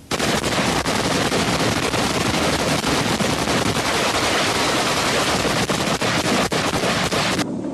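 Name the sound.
gunfire from soldiers firing out of bunkers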